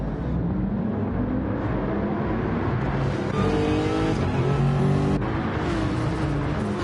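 Gr-3 race cars in a racing video game accelerating away together at the start, several engines revving and rising in pitch at once, loud and dense, with gear changes shifting the tones.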